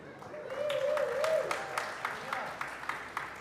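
Scattered audience clapping, with distinct individual claps ringing out in an uneven rhythm over a voice that speaks at the start and a murmuring crowd.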